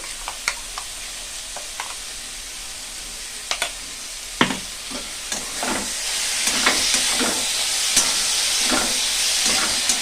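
Ginger, garlic, onion and chili paste frying in a pan with a steady sizzling hiss that swells toward the end, broken by scattered clicks and scrapes of a spoon stirring, close and fairly loud with no talking.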